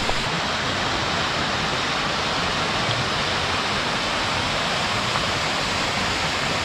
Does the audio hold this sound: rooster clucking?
no